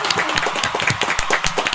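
Audience applauding for parents on a podcast set, a short burst of scattered hand claps from a small group, close and fairly loud.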